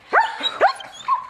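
A dog gives three short, close barks or yips with yelping rises, spaced through about a second, loud and clear with no talk over them.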